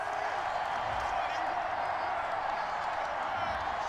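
A stadium crowd in a Madden NFL football game rumbles with a broad, steady roar of disapproval after a penalty flag, sustained and fairly distant without distinct peaks.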